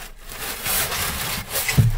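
Close, scratchy rubbing and squeaking of styrofoam, steady for a couple of seconds with a brief louder squeak near the end.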